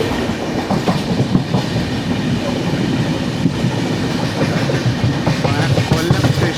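Garib Rath Express train running on rails, a steady loud rumble with rhythmic clickety-clack of wheels over rail joints, continuous and close throughout with no talk.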